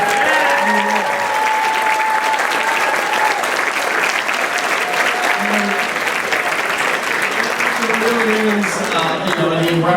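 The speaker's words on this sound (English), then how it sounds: "let's have a round of applause while we're here" Applause for the organizers of an energy conference panel: a steady, full round of clapping from the room, with some voices and faint tones sounding beneath it.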